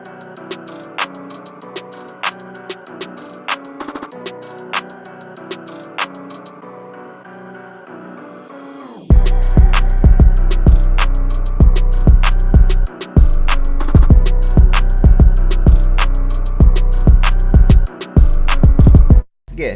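A soft, moody melodic intro plays alone for several seconds, then a hard hip-hop beat drops in with heavy booming bass and crisp, fast hi-hats.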